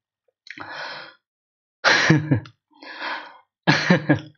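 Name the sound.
coughing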